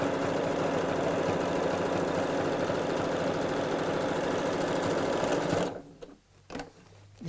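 Sewing machine stitching felt with a small stitch, a loud, steady rapid whir running continuously before stopping abruptly, followed by a couple of quiet clicks.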